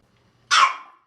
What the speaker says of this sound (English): Miss Molly is barking at it